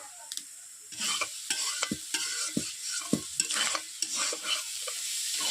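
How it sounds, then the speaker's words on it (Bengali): Pond snails from a village pond fried in a little oil over low heat in a wok, with a continuous soft sizzle and repeated sharp scraping and clattering strokes as a spatula stirs them. "গুগলিগুলো আমি কেমনভাবে ভাজছি"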